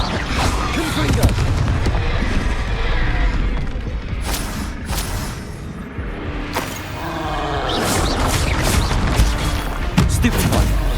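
Repeated booming blasts from fire-based spells in the Hogwarts Legacy game, including Confringo, hit in steady succession during a boss fight with Rookwood and a Graphorn, with loud rumbling impacts and occasional sharp cracks over continuous battle noise.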